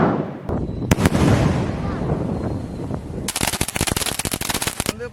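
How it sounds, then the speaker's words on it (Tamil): A large 1 kg firecracker bomb goes off with a heavy blast and a long rumbling decay, followed by a dense run of sharp, rapid crackling pops, loud and nearby. "இருக்கிறதுலே பெரிய சைஸ் பாம் நம்ம கிட்ட ஒன்று இருக்கு."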